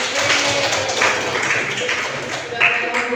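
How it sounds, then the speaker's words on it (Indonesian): A classroom full of students claps in a steady, moderately loud round of applause for a few seconds, with a voice speaking faintly beneath it. "Tepuk tangan dulu"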